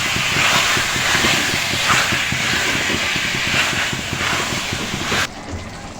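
Chicken pieces being sautéed with spices in a pan for chicken tehari, giving a loud, continuous hissing sizzle with faint clattering stirs, cutting to a quieter tone near the end.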